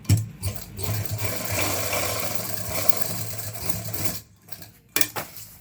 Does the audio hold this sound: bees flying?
no